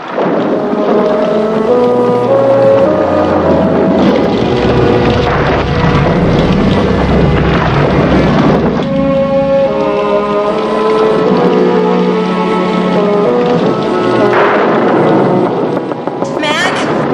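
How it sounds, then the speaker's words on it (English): A heavy thunderstorm roars continuously with rumbling thunder and driving rain, dense and loud throughout, with voices briefly audible within the storm noise. "It's a storm, Mildred."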